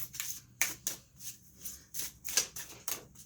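Doreen Virtue's Magical Messages from the Fairies oracle cards being shuffled, in a series of crisp papery riffles and flicks close up, arriving in quick separate bursts with no talking.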